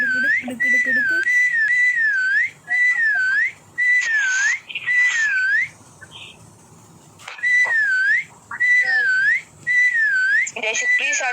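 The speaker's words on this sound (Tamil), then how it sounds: "விசில் அடிச்சிட்டு இருக்கானேடா" Melodic whistling in a Roblox game comes in repeated rising-and-falling phrases, loud and near, broken by short pauses and a brief stretch of background noise.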